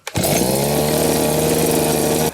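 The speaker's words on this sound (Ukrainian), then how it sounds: "І бачимо, як заводиться наша бензокоса." Petrol brush cutter engine fires up after a brief pull, then runs at a steady high buzzing idle close by for about two seconds before dropping off at the end.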